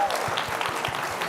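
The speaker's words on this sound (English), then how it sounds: "Let's give them a big round of applause." Dense applause from a crowd at a startup pitch competition finale, steady and fairly loud throughout the short stretch.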